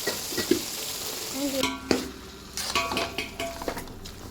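Chopped tomatoes tipped into a hot pan and fried for tomato thokku, with clinks and stirring scrapes over a steady sizzle.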